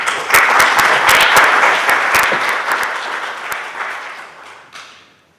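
An audience at a college presidential candidate interview breaks into applause, loud dense clapping that starts at once, then thins and fades out over several seconds.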